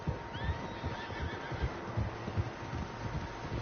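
Horses neigh and whinny repeatedly in the video game Red Dead Redemption 2, with rhythmic hoofbeats thudding underneath; no talking.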